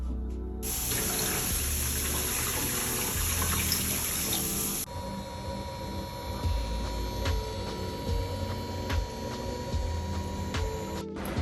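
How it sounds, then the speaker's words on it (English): Water gushes steadily from a tap into a container for a sous vide cooker, a loud hissing stream that stops after a few seconds, followed by quieter splashing and handling noises in a kitchen. "I'm gonna go ahead and add in water to our sous vide machine"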